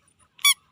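A squeaky toy duck gives one short, sharp squeak when squeezed, alone in an otherwise quiet moment.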